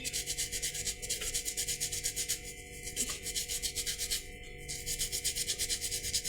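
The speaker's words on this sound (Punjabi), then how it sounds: "ਬੋਸ਼ ਨਾਲ ਇਦਾਂ ਸਾਰੇ ਮੜੇ ਰਗੜ ਦਾਂਗੇ" A brush scrubs tarnished silver bracelets in steady, continuous back-and-forth strokes, close and fairly quiet, with no talking.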